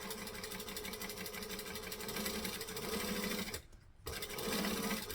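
A sewing machine stitches and back stitches through vinyl in a rapid, steady mechanical whir, close and clear, with a short pause before it resumes.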